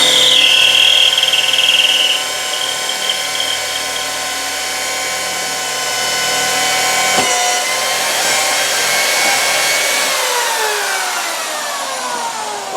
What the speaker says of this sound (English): So I'm going to go ahead and drill this hole.